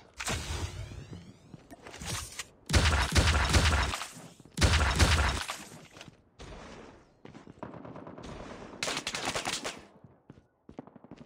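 M16 rifle fire in Call of Duty Mobile, several loud sustained automatic bursts with sharp cracks and shorter volleys between, plus scattered game effects, no talk.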